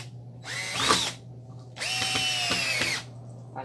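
A power drill drives screws into an old tire, two separate whirring bursts rising in pitch, the second longer and steady, close and loud with quiet pauses between.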